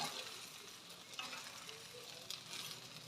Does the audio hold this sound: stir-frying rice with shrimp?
yes